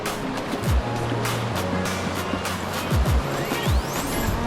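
Rushing water at Krok E-Dok waterfall in Saraburi, a steady loud wash of stream and falling water close by, with no talking.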